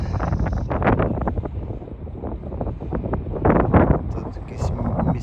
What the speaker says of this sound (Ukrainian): Треба йти в трак, бо реально вітер такий дикий